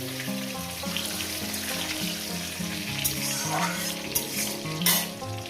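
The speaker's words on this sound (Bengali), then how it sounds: "লবণটাকে দিয়ে আমি পটলটাকে সুন্দর করে ভেজে নেব" Pointed gourd pieces fry in hot oil in a pan, a constant dense sizzle with sharper crackles and spatters near the end.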